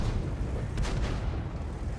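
A tank gun fires in a World of Tanks battle replay, a single muffled boom standing out briefly over a steady, dense wash of low battle rumble.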